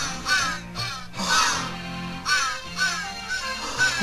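Repeated crow-like caws from a bird on the end screen of the video game Santa Claus in Trouble, several harsh calls in an uneven rhythm over a background music bed, fairly loud and close.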